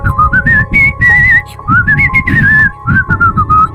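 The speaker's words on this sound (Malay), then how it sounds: "Bunyi siulan tu macam bunyi orang bersiul dengan senang hati." A person whistles a cheerful, bouncy melody in short rising and falling phrases, close and loud, with faint background rumble beneath.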